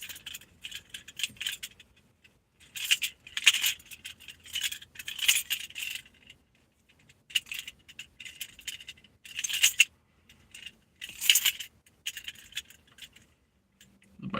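Keys jangling in bursts of bright metallic clinks and rattles, fairly close, with several short pauses between shakes and no talk.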